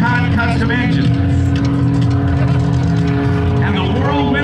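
Lycoming custom aircraft engine with a Whirlwind propeller roars steadily at an airshow, a loud, continuous droning buzz with shifting pitch, while an announcer talks over it on a public address system.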